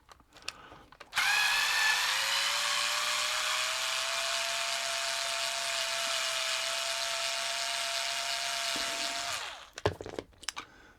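Electric screwdriver backing flat blade screws out of a TRS-80 Model 1 power supply case, a steady high whine running for about eight seconds, then a few brief clicks and handling noises.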